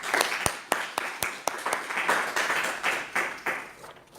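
A small Bible study group on Galatians gives scattered, sparse hand claps, with separate sharp claps coming unevenly and fairly faint in a quiet room.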